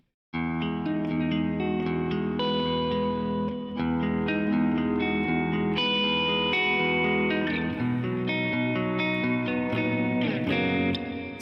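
Electric guitar played with reverb, around 64% dry, producing sustained chords and ringing single notes that fill a steady, continuous stretch with a lush, washy tail and no voices.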